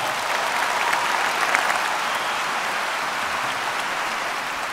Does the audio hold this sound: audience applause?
yes